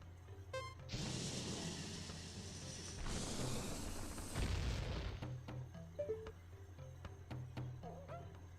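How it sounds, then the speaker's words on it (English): A bomb blows up a statue in The Legend of Zelda: Ocarina of Time on GameCube. It gives a loud, broadband blast near 1 second, then a second surge of rumbling debris from about 3 to 5 seconds. Softer game tones and clicks follow. "if you blow one up with a bomb, it does this"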